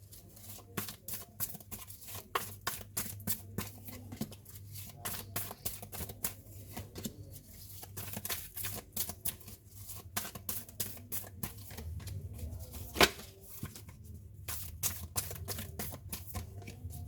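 Tarot cards being shuffled by hand, a steady run of crisp riffling clicks and flicks up close, with a low hum underneath and no talking.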